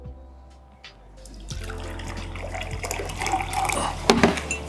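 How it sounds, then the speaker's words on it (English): Water pours steadily into a container, splashing and gurgling louder as it fills, with a brief clink near the end. "Put that water in."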